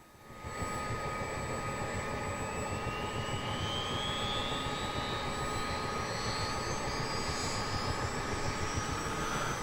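Turbine engine on a US Army Chinook helicopter in Microsoft Flight Simulator starting up, a loud steady roar with a high whine climbing gradually in pitch as it spools, continuous and close with no talking.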